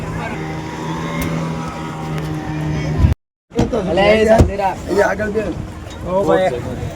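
A motorboat engine drones steadily up close on the water at Ranuja, then cuts out as people start talking over the water.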